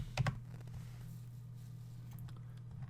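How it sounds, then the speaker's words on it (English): A couple of quick keystrokes on a computer keyboard as a stock ticker is entered, a brief close burst at the start followed by a quiet electrical hum. "I'll type it in on my chart"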